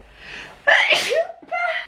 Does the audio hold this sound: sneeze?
yes